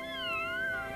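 A kitten in a cartoon gives one short, high, drawn-out meow that rises and falls, faint and heard on its own.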